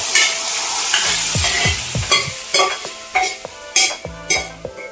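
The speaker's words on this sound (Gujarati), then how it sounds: "હું હવે છે ને મગ નાખી દઉં છું કેમ કે ટમેટા પાકી ગયા" Mung beans tumble into a pan of frying tomatoes and are stirred, with a steady sizzle behind repeated scraping and clattering strokes of a spoon against the metal pan.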